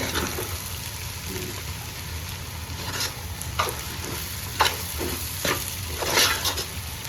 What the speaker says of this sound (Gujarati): તો હવે આપણે પાછું એને હલાવી નાખીએ